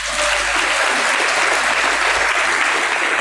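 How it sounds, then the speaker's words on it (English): Dense, loud applause from a large audience at a university first-year address, a steady wall of clapping that fills the whole stretch without letting up. "Clap for me."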